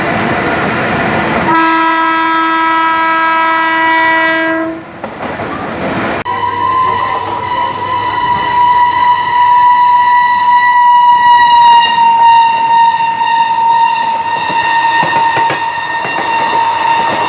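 A train on the Sealdah line sounds its horn loudly and close, with a first sustained blast, a short pause, then a longer harmonic honk over the rumble and clatter of cars rolling past.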